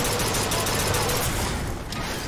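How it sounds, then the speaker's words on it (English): A volley gun firing in BioShock Infinite, a continuous loud roar of rapid shots and chaotic combat noise that stays dense and unbroken throughout. "Volley gun."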